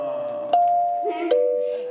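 Small hand bells ring in two bright, sustained strikes about a second apart, close and fairly loud, with a faint tinkle between them.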